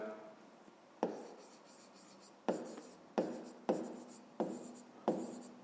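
A pen writes math notes for a fifth-grade area problem, six quiet scratching strokes in an even, steady rhythm, close and alone with no voices.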